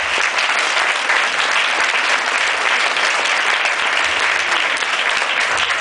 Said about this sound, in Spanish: Un aplauso para Alex.